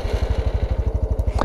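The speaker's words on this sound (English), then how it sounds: "If you just start it up, listen how smooth this thing is." A new Honda CT125 small motorcycle engine runs close by with an even, rapid low thumping pulse, smooth and steady, with no talk over it.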